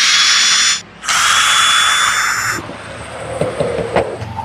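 A power screwdriver unscrews the two back cover screws of a Supertech 900 W angle grinder, heard as a loud, close, high whir that briefly stops, then runs on before giving way to fainter clicks and handling noise.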